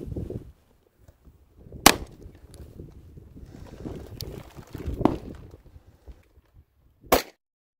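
Three sharp gunshots firing Hornady Critical Duty 135 grain bullets into a ballistic gelatin block, spaced a few seconds apart, each a brief crack standing out over quiet outdoor background noise.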